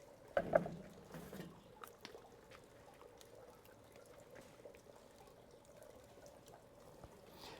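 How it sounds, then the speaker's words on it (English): Avocado oil pours from a spray-and-pour oil decanter onto beef ribs for grilling, a short close splash and trickle near the start, then only a faint, quiet drip against low background noise. "I'm gonna hit them all with some avocado oil as a binder"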